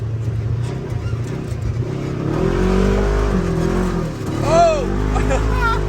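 A side-by-side off-road vehicle engine drones and revs while driving off-road, rising and falling in pitch with a louder surge near the end, close, with voices and excited talk over the engine.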